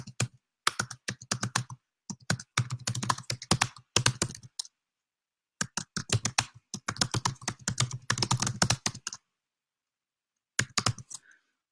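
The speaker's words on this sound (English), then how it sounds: "I'm going to type it in here in the comments." Rapid clacking of a computer keyboard comes in close, distinct bursts of typing separated by silent pauses.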